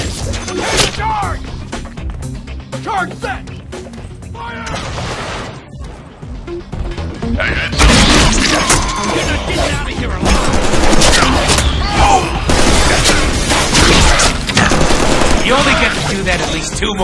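An explosive charge detonates in the Deadpool video game amid a loud, chaotic barrage of gunfire and booms that swells sharply partway through and stays dense, with voices shouting over the battle.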